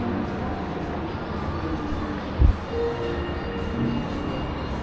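A children's train ride rolls through a shopping mall entertainment centre in Astana, Kazakhstan, with a steady moderate rumble, one brief thump midway and faint squealing tones.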